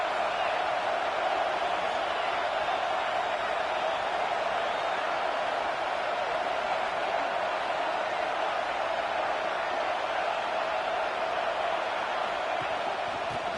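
Crowd noise at a football game in a stadium, a broad steady roar of many voices heard at a distance, with little change over its length.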